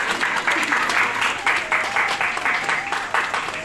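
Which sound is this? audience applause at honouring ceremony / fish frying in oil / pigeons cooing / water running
audience applause at honouring ceremony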